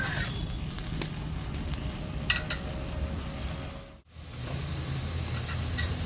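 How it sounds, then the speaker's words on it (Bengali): Puti fish curry gravy boiling hard in a pan, a steady close bubbling sizzle that runs throughout with a brief dip partway, with faint clinks now and then. "ঝোলটাকে ভালো করে ফুটিয়ে নেব।"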